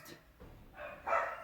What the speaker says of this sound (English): I'm sorry for all the barking.